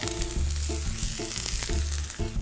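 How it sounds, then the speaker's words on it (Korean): Steady loud sizzling of grated-potato rösti frying in oil in a pan, with repeated scraping and stirring clatters cutting through the hiss. "수분이 올라와서 팬에 튈 수 있으니까 조심해서 뚜껑 열어주시고요."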